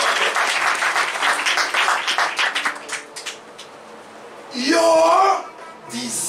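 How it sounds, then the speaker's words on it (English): A church congregation claps together in loud, quick rhythmic strokes during a teaching session, tapering off after about three seconds before a voice speaks. "Everybody clap."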